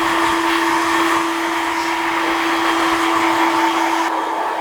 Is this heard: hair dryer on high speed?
yes